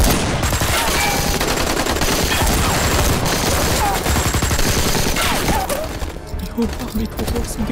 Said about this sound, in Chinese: 矿场那边好像有枪声。